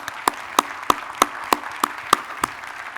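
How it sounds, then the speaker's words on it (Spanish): Brief applause from a conference audience at an international sustainability congress, sparse, evenly spaced claps, about eight distinct hits over a few seconds, moderately faint. "Un aplauso"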